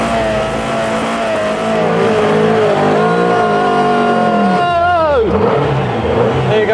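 A modified 2.2 litre Volkswagen Beetle engine of about 180 brake horsepower revs loud and close, climbing steadily, then dropping sharply before rising again, with voices faintly underneath.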